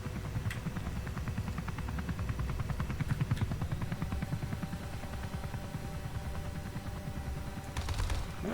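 Rapid automatic gunfire from a drone in the Comanche helicopter video game rattles in a continuous stream over a steady low engine drone, fairly quiet overall, with a tonal hum joining partway through.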